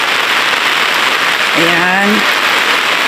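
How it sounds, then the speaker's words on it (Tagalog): Rain falls steadily during a flood, a continuous loud hiss of water throughout, with a short spoken exclamation partway through. "Ulan pa."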